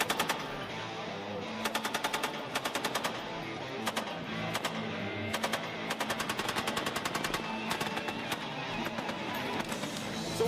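An M240 Bravo 7.62 mm machine gun fires at a U.S. Navy training range in repeated short bursts of rapid shots over a continuous loud background of range noise.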